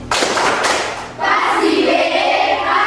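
A classroom group performs the 'tepuk wow' clap, a rhythmic, patterned clapping routine done together, loud and close, with a short pause partway before the claps resume.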